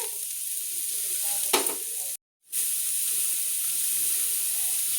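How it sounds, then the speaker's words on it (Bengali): Potatoes fry in a hot pan and are stirred, giving a steady close sizzle with scraping strokes. The sound cuts out briefly midway and then returns at the same level. "আলুটা ভাজা ভাজা হয়ে গেছে, একটু হেলুনি হয়ে গেছে।"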